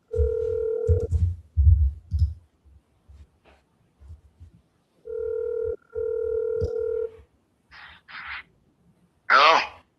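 Ringback tone of an outgoing phone call to a property seller repeats twice, steady electronic burbles with low talk and rustling between them, then a voice answers near the end.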